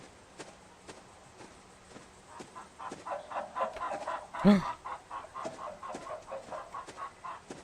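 Rooster clucks in a horror video game demo, a run of rhythmic, moderately loud clucking bursts that builds over several seconds alongside soft, regular footsteps.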